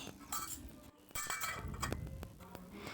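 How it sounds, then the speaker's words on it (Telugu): A lid is set onto a pot of mutton curry, giving a few light metallic clinks and clatters close by, quiet overall, with brief gaps between the knocks and no talking. "ఇప్పుడు మూత పెట్టి ఉడికించుకోవాలి"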